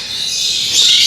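Many lovebirds (agapornis) in a large breeding aviary of over a thousand birds, their calls merging into a dense, steady high-pitched chatter that grows slightly louder toward the end.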